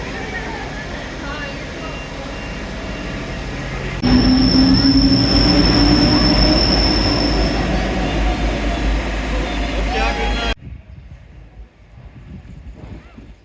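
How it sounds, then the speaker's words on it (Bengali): Golden Pass train in Switzerland rolling along with steady rumbling rail noise and a loud, rising wheel squeal partway through, then the sound drops off sharply near the end to a quieter background. "এখন আমরা গোল্ডেন পাস ট্রেনে চড়ে এলাম।"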